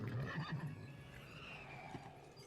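A horse, a mare, whinnies nearby, a shaky, high, fluttering neigh that fades out over a couple of seconds.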